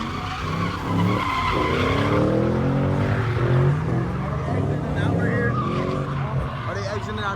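At a nighttime street takeover in Detroit, a drifting car's tires squeal and skid loudly beside its engine's roar, while bystanders talk and shout close by throughout.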